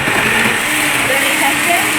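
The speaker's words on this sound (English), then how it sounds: "Okay, so this is going in the blender. This is going to be very loud and not very fun for a second." A kitchen blender runs at full speed, blending chicken tortilla soup ingredients into a loud, steady whirring roar for the whole moment.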